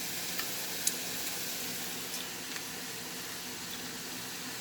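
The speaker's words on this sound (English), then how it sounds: "now, let this simmer out" A marinated moose sauce simmers in a pan with a soft, even sizzle and faint bubbling, a steady hiss broken by a few small pops.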